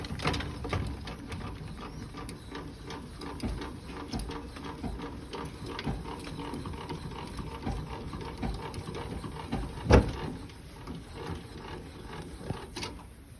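A hand winder cranks up the roof of a Jayco Expanda Outback poptop camper with a continuous ratcheting, clicking mechanical whir and one sharper clunk partway through, fairly close and steady.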